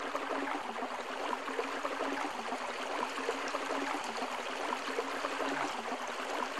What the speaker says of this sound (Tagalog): Ito po yung unang sapa.